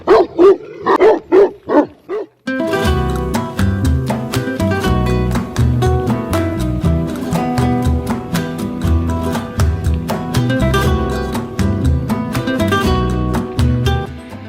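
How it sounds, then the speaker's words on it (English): Unfriendly dogs along a road in Spain bark in a quick series of sharp, close barks, then the sound continues as rhythmic, repeated barking over a busy background. "I even met a few not so friendly dogs along the way."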